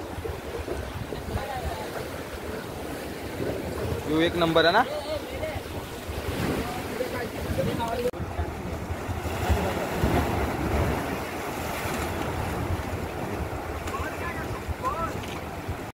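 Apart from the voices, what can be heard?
sea waves coming in on a beach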